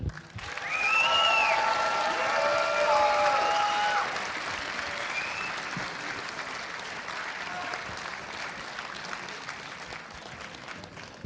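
Loud audience applause with cheering at an esports grand final award ceremony, a big crowd clapping steadily, swelling early then easing to a lighter sustained patter as music tones ring over the start.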